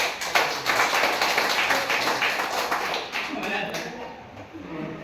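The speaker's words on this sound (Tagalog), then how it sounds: "Palakpak sa Panginoon." A church congregation claps for the Lord in a burst of applause that starts strong and tapers off over a few seconds, with voices murmuring underneath.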